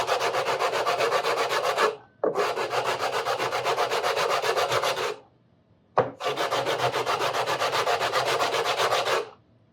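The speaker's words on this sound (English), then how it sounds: "and now hit it with my sanding block" A sanding block rubbed back and forth along the wooden neck of a steel-string guitar, with three long passes of fast, rhythmic, rasping strokes, close and clear, separated by brief pauses.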